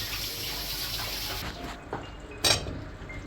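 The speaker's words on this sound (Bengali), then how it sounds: "এখন এখানে আমি মিষ্টি কুমড়াটা ঢেলে দিচ্ছি।" Diced pumpkin poured into a cooking pan with a little oil, a steady hiss of sizzling followed by a few close clatters and scrapes as the pieces land.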